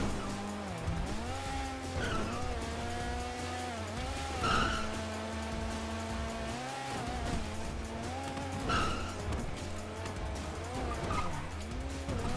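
A car in the GTA RP video game races through curves, its engine droning steadily with rising and falling pitch and repeated tire squeals as it corners, loud and continuous without talk.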